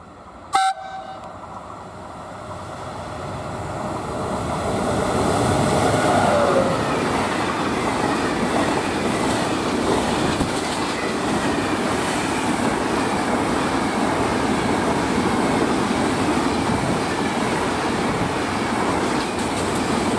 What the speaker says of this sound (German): kurz vor meinem Regio haben wir hier noch eine Zugdurchfahrt